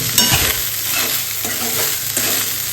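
Leftover cooked rice frying and being stirred in a pan, a steady loud sizzle with scraping stir strokes throughout and no talking.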